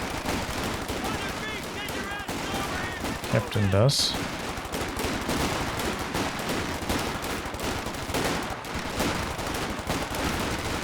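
Infantry squads in the Company of Heroes 2 video game keep up continuous rifle and machine-gun fire, dense rapid cracks layered throughout, while someone talks over the battle noise.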